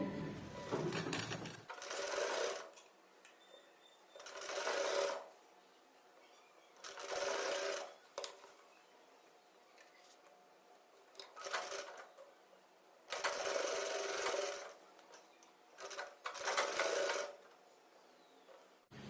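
Sewing machine stitching the folded-under edge of a blouse in repeated bursts of rapid, steady running, each a couple of seconds long, separated by short pauses while the fabric is turned.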